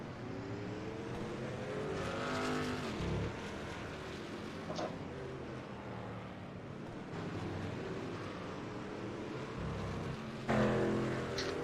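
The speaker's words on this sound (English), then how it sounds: "Some LS engine." A Trans Am TA2 race car with an LS V8 engine drones steadily at close range, its engine note rising and falling through gear changes, with a sharp rev surge near the end.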